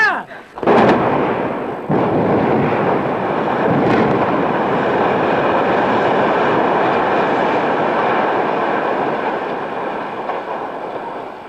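Explosive demolition blowdown of a building, a sharp blast followed by a long, loud rumbling roar of collapse and debris that slowly fades over several seconds.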